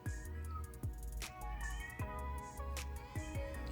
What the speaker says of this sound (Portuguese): Minha gata está enlouquecida.